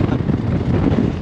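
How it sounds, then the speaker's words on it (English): Steady wind buffets the microphone with a low, rumbling roar, continuous and fairly loud with no voices. "How are we feeling? We feeling windy."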